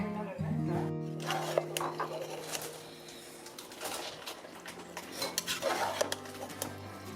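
Vegetable tagliatelle stirred in a pan over a low flame, with repeated clinks and scrapes of utensil against metal in uneven bursts while someone talks over it.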